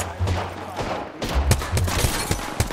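Gunfire in Apex Legends during a ranked match: bursts of shots in quick succession, loud and close, with short pauses between volleys and sharp cracks toward the end.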